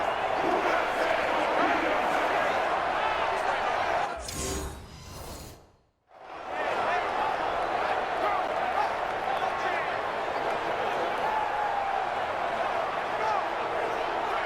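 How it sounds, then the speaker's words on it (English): A dense, continuous roar from a stadium crowd fills the Dome in a Madden NFL football video game. It stays loud and steady, drops out briefly partway through, then surges straight back. "The crowd here in the Dome making things difficult"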